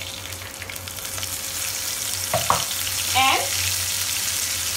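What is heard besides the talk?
fish frying in a pan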